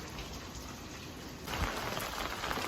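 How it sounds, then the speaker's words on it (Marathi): Steady rain pours down in a continuous hiss, growing noticeably heavier and louder about halfway through, with no voices. "पाऊस बघा आज कंटिन्यू चालूच आहे"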